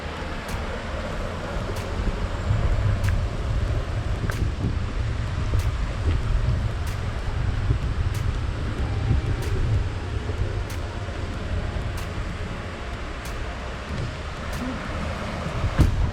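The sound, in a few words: Dungeness River running water in forest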